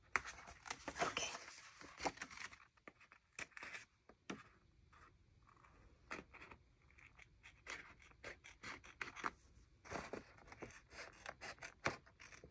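Scissors trim paper for a handmade waterfall Dutch door card, giving short, crisp snips and scraping rustles that come close and then pause, with quiet handling of the paper between cuts.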